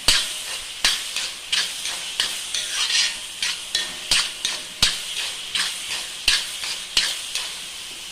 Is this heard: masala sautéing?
yes